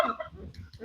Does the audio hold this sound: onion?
no